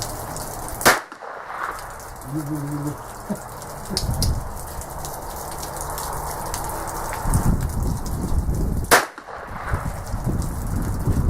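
A North American Arms Mini Mag revolver fires two sharp, loud shots several seconds apart outdoors, each a sudden crack over steady background noise and faint rustling.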